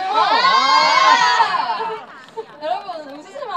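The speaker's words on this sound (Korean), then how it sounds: "박수 한번 주세요." An outdoor crowd at a family music festival shouts and cheers loudly for a few seconds, then fades to scattered voices and a last small burst.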